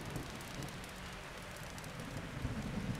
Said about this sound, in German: Ein Gewitter ist doch nicht über eine Stunde